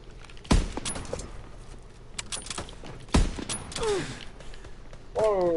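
Carbine rifle gunfire in a WW2 shooter game, two loud sharp shots a few seconds apart with smaller clicks and mechanical game sounds between them.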